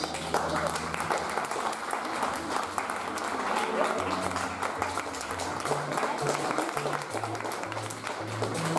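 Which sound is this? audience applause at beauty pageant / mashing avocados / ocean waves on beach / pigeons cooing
audience applause at beauty pageant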